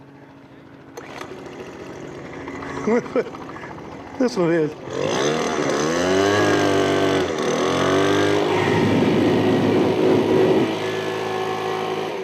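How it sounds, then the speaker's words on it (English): A loud Poland Pro gas leaf blower roars up and holds a steady high-pitched whine, with someone talking briefly before it starts up. "This is a real leaf blower, a Poland Pro."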